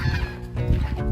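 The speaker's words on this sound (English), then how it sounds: "We have some chickens here." Chickens cluck close by in a farmyard where eggs are being gathered, a short burst of overlapping clucks and honking fowl calls.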